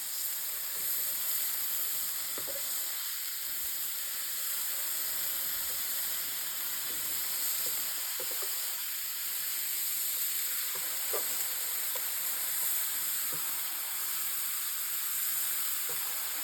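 Sucuk sausages sizzle steadily in a hot frying pan as they are turned with tongs, a continuous close hiss and crackle with occasional soft clicks and no voices.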